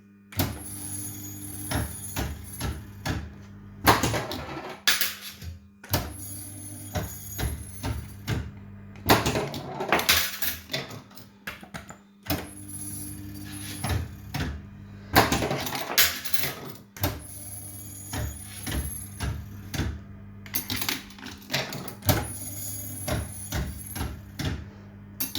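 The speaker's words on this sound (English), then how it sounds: "the squeal sound you hear on the reels" Slot machine reels spin with a mechanical whirr and a high squeal, stopping and restarting in repeated cycles. Moderately loud, with no talking.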